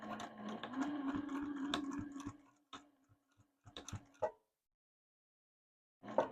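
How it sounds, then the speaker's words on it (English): A sewing machine runs in short bursts, stitching back and forth along a quilt binding at the corner, a close whirring rattle that stops and restarts with brief pauses and a final short run. "I'm going to stitch forward to the very edge of the quilt, and I'm actually going to back stitch, forward stitch, back stitch, forward stitch a few times"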